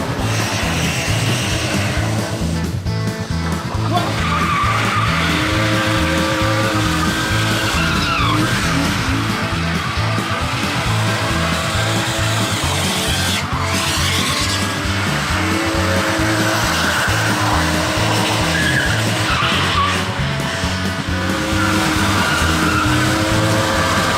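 BMW E36 325i drift car with the M50B25 non-VANOS engine skidding hard, tires squealing continuously over a loud, revving engine for the whole stretch, close and sustained without speech.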